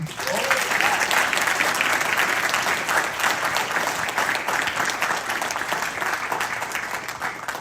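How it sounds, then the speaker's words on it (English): Audience applause honoring several sergeants at an Air Force birthday celebration for an intelligence group, a full, steady round of clapping from a large crowd that holds for several seconds before easing slightly. "Round of applause for them"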